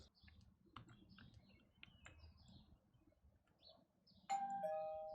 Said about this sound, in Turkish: Bir zili çaldık bakalım.